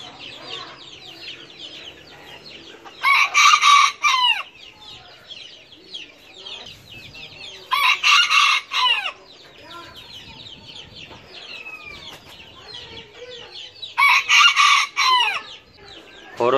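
Serama rooster, a tiny bantam breed, clucking outdoors in three loud, close bursts of rapid harsh calls spaced several seconds apart, with softer chirping birds in the background between them.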